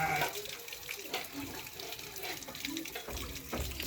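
Water running and splashing from a tube radiator being drained on a Mahindra 575 DI tractor, a steady broadband gush with some gurgling variation, fairly close, with no clear talk over it.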